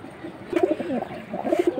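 Two pairs of pati pigeons coo in a series of soft, throaty, rolling calls close by, with the bursts grouped in the second half.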